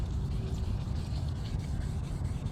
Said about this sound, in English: Very fine sandpaper.